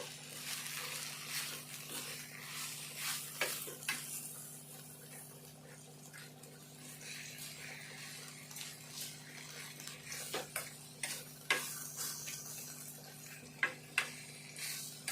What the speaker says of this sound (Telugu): అంత ఒకసారి కలుపుకుందాము